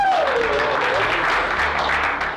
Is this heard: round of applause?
yes